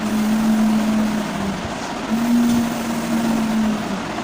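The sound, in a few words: voice imitating a van driving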